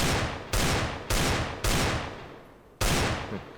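Desert Eagle pistol shots in the video game CS:GO, five loud booming reports at irregular intervals, each ringing out and decaying before the next, with no talk.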